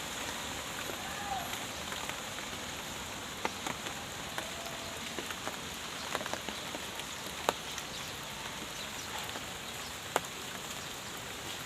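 Heavy rain pours steadily in a dense, constant hiss, with occasional sharper drips and taps standing out against the downpour.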